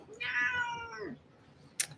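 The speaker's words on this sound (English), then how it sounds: "There's a cat next to me." A cat gives one drawn-out, wavering meow close by, lasting about a second, then quiet room tone and a brief sharp tap near the end.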